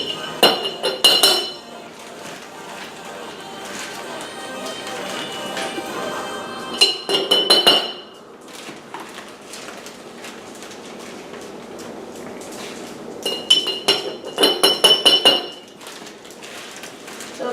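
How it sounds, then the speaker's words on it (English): Beeswax scooped into a glass jar for homemade lotion bars, heard as a few short bursts of clinking and scraping, the clatter of a spoon against glass at the start, middle and end, with quiet room noise in between. "So we are going to do about 4 to 5 tablespoons of beeswax. And we'll just put that into our glass jar."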